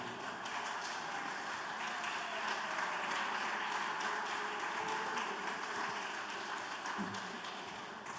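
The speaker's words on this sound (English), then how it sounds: "Big round of applause for them." Conference attendees at a Chicago brewing-industry talk give a sustained round of applause. It runs steady and moderately loud for the whole stretch, dense clapping from a mid-sized crowd with no distinct voices over it.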